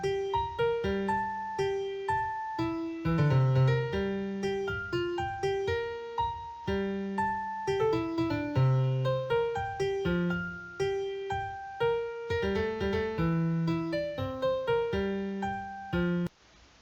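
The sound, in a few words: scales from a JFugue music string played by a Java program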